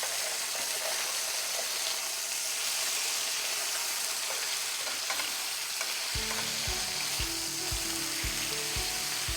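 Scottish salmon fillets sizzle loudly in a frying pan, a dense steady hiss that continues throughout, with stirring or scraping noises and low rhythmic thumps joining near the end.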